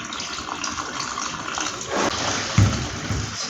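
Grains for Tom Brown being washed in a bowl of water, with a steady close swishing and sloshing of water and a few louder splashes as the grains are stirred.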